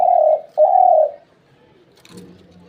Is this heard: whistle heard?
no